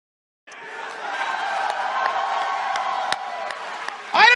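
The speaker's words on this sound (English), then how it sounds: "The things Steven was saying really got the crowd going." A college debate audience erupts in loud, sustained crowd noise with cheering and whoops. The cheering holds steady for several seconds and ends in a brief louder burst.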